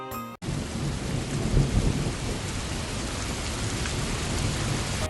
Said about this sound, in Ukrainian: Ось який дощик полив.